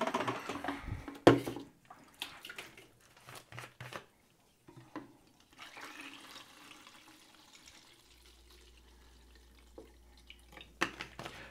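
Liquid drained and poured around a film developing tank during colour film processing, with bursts of splashing, trickles and drips, a sharp knock early on, and a low steady hum near the end.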